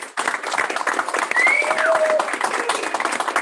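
An audience of production staff gives a round of applause for the animation department, a scattered, moderately loud clapping with occasional whoops, heard close and without talking.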